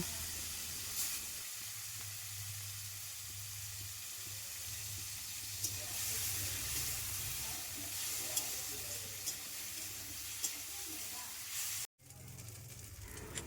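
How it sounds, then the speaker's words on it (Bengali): Small prawns fry in hot oil with a faint, steady hissing sizzle that runs throughout, broken by a few tiny pops and a brief clunk near the end. "এবার মাছগুলো দিয়ে মাছগুলোকে ভালো মতো ভেজে"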